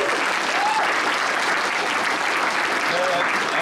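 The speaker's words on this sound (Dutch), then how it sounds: "Geef die man een keihard applaus." Steady, dense audience applause fills a comedy roast warm-up, loud and continuous with a few faint voices calling out over the clapping.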